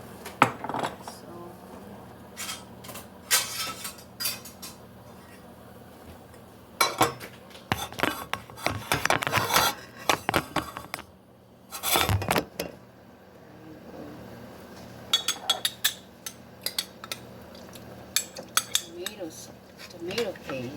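Tomato paste being stirred into Mexican rice in a pan, with scattered bursts of a utensil scraping and clinking against the pan between quieter pauses, up close.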